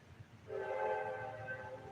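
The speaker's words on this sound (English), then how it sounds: "The choo-choo train's going by," Train passing by in the video game GTA Vice City on PS2, a short sustained horn blast entering after a brief quiet moment, faint and in the distance, with no talking.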